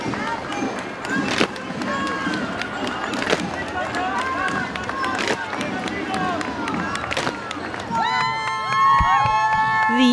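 Crowds cheer along Fifth Avenue at the annual Greek Parade, a busy outdoor roar of voices and shouts with scattered sharp claps and whistles, swelling louder toward the end.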